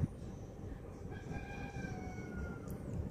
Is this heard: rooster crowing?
yes